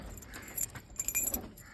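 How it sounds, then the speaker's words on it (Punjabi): A padlock is opened with keys, producing a few brief metallic jangles and clicks in two small bursts, faint and close, with a quiet outdoor background. "ਇਧਰਲਾ ਆਪਾਂ ਖੋਲੀਏ ਜਿੰਦਾ"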